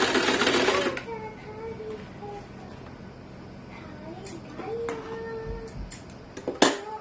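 A sewing machine stitches petticoat pieces in a loud, close burst of rapid clatter lasting about a second, then falls quiet, leaving faint handling noise and a few brief taps.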